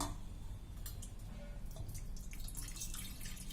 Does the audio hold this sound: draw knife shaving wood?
no